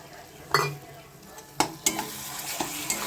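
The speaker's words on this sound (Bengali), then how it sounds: "এবার টক দইটা দিয়ে কিছুক্ষণ আবার নাড়তে থাকবো মশলাটা একটু কষিয়ে নেব" A spoon scrapes and clacks in a pan while masala fries with sour curd, giving a low steady sizzle broken by several sharp metallic knocks.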